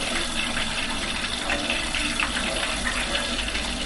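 Water poured into a cooking pot of jollof rice, a steady, close gushing stream with an even splashing hiss that runs unbroken throughout.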